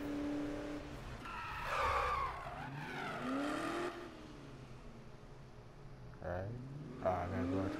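Mustang in Need for Speed 2015 revving and skidding, engine pitch rising and falling with squealing tires sliding through turns, at moderate loudness with brief pauses between bursts.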